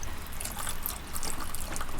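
Water pours from a watering can into a seed tray for starting onions from seed, a steady close splashing trickle with small bursts that runs without pause.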